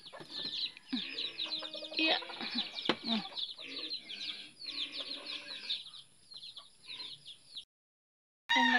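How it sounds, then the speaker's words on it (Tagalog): Chickens clucking nearby in a rural yard, repeated short clucks and chirpy calls in uneven bursts, with a brief spoken word mixed in. "Meron pang manok nag-aabang."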